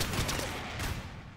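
Rapid video-game gunfire and mortar blasts from ROUNDS pile into a dense, continuous barrage with repeated thumping impacts, loud and close throughout.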